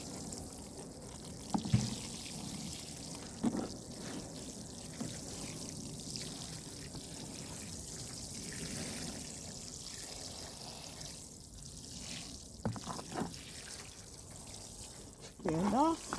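Newly planted seeds in a raised garden planter being watered: a long, even, hissing pour of water onto soil, close and moderately loud, with a few brief knocks and faint voice sounds scattered through it.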